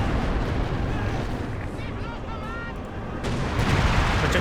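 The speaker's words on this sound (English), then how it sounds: "artillery just raining on top of the Panther" Heavy artillery barrages thunder in a Company of Heroes 2 match, shells raining down around a Panther tank in a loud, continuous rumble of blasts with a commentator talking over it.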